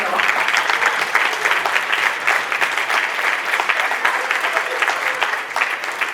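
Audience applause at a monthly student affairs and enrollment management all-staff meeting, loud and continuous rapid hand clapping from a roomful of people, sustained evenly for about six seconds.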